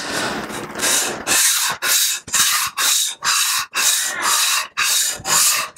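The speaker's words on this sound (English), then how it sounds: "on the sandpaper here and get this a little smoother before I go up to 400 grit" A vintage Sargent No. 400 series hand plane is pushed back and forth on sandpaper in loud, close, rhythmic rasping strokes, about a dozen even passes separated by brief gaps, with no talk.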